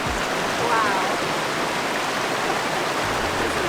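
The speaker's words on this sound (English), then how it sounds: "Concanolog Falls is pretty small compared to some of the other waterfalls that we've seen, but it's just as magical" A small waterfall, Concanolog Falls near Kawasan on Cebu, pours as a steady, loud wash of rushing water close by, with a faint voice briefly audible in the mix.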